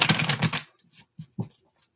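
A quick riffle of tarot cards being shuffled, a dense fluttering burst, followed by a few soft taps as the deck settles.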